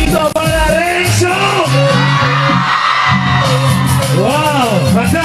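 A crowd at a youth music event in Villa Celina, Buenos Aires, yells and cheers for a performer, loud and continuous, with shouting voices layered over music throughout.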